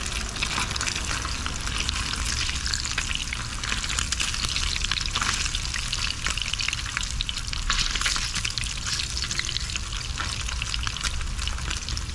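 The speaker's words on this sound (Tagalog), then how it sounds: "Mag-ingat lang sa pagprito ng spam kasi masyado siyang ano, nagtatalsik ba" Spam slices frying in a pan inside a car, with a steady, dense sizzle and crackle of spattering oil that holds up close and continuous throughout.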